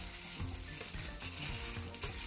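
Chicken kabab skewers sizzle in a hot pan, a steady bright frying hiss close by with soft intermittent scraping and bubbling underneath.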